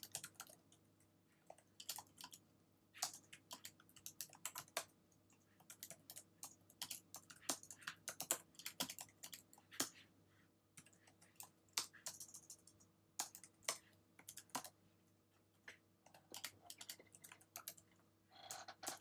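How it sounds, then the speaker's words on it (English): Steady typing on a computer keyboard, close and fairly quiet, with irregular bursts of key clicks and brief pauses. "I'm just typing it out right now."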